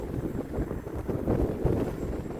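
Strong gusty wind buffets the microphone around a flying Hobbyzone Aeroscout S RC plane, a steady loud rumbling roar with surging gusts and no voices.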